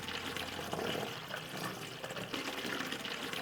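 Homemade bread kvass is poured through a funnel and a fine sieve into a plastic bottle, giving a steady, soft trickling and splashing of liquid close by.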